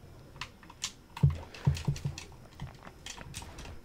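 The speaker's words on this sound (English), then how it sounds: "Sorry if you can hear the controller in the background." Game controller buttons clicking during a Mortal Kombat X match, faint, quick irregular taps in the background with a few louder clicks in the middle.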